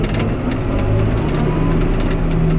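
John Deere tractor running a Reco straw chopper, its engine droning loud and close with a steady low hum that holds even throughout, no voices present.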